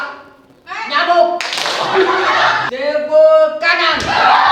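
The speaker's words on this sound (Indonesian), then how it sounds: "Tepuk nyamuk." Students in a classroom guidance session play the Indonesian 'tepuk nyamuk' (mosquito clap) hand-clapping game, with bursts of group claps alternating with chanted voices throughout.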